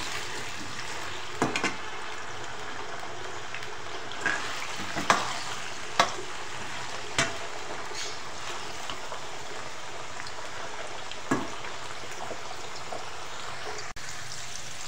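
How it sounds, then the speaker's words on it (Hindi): Potatoes frying in oil make a soft, constant sizzle with a few sharp stirring clicks scattered through it, moderately close and with no voices. "आलू फ्राई हो रहे हैं।"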